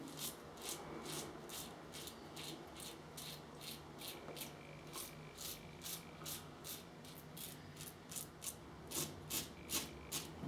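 A Karve Christopher Bradley stainless steel safety razor cuts through stubble in quick, regular rasping strokes, about two per second, faint and close-miked over a soft hiss.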